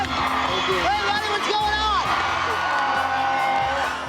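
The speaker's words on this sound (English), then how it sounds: "Everybody's cheering, everybody's yelling." A crowd at a home makeover reveal cheers, whoops and yells loudly and continuously, with excited shouts rising and falling over the steady roar and voices mixed throughout.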